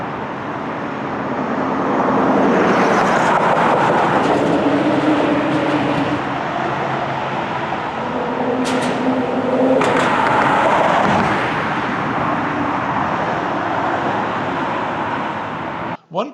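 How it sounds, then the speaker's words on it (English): Cars and trucks cross the metal grate deck of the US 48 Mossdale Crossing bridge in Lathrop, California, giving a loud, continuous rumbling hum of passing traffic that swells and fades for about sixteen seconds, with no talk. "The sound of vehicles passing over the metal grates makes for a distinctive sound."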